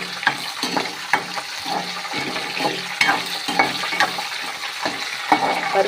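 Curry leaves and green chilies fry in hot oil for a ridge gourd stir-fry, giving a steady, close sizzle broken by regular stirring scrapes.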